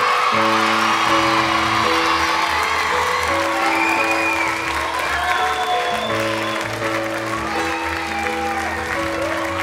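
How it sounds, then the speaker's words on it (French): A French TV studio audience on a fan-show set bursts into loud, sustained applause with a few whoops and cheers, steady over a band playing in the background for nearly ten seconds. "Je vous demande de l'applaudir."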